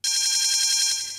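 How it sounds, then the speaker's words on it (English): A loud electronic fire alarm bell rings continuously for about a second in a cartoon school fire drill, a bright, steady metallic trill. "That's the fire alarm"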